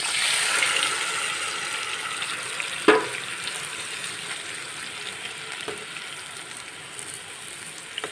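Khoyra fish fries in hot oil in a pan, a steady close hiss of sizzling with one sharp clatter early on and a faint knock later, no voices.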